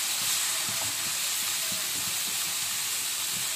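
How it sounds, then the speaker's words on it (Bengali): Aroid stolons (loti) sautéing with tomatoes in a pan give off a steady, even sizzle and hiss that holds at constant loudness throughout, with no voices. "আমি খুব আস্তে আস্তে লতিটাকে কষিয়ে নেব।"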